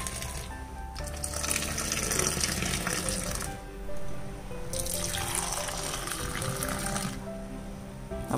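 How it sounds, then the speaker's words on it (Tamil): Strained, spicy tea is poured back and forth between vessels and into a cup to froth it, making two long bursts of splashing liquid separated by a brief pause, close and moderately loud. "வடிகட்டிட்டு நல்லா ரெண்டு ஆற்ற ஆற்றிட்டு கப்பில் ஊற்றிட வேண்டியதான்."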